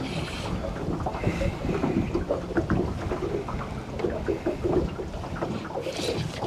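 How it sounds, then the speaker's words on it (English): Strong wind roars across the microphone outdoors on a fishing outing, a continuous heavy rumble with gusty surges and some splashy, water-like texture, loud and constant with no talking. "that wind is strong"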